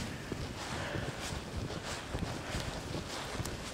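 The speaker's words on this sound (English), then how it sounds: "there's a huge gust of snow blowing in front of me" Blizzard wind blows snow in a steady, loud roar and buffets the microphone with constant gusty noise. No voices are heard.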